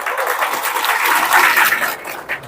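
Applause from a crowd of supporters at a political gathering, a dense burst of clapping lasting a couple of seconds, loud and close, then tapering off.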